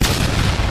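A single loud, dense, booming burst fills a brief explosion in the Plants vs. Zombies video game.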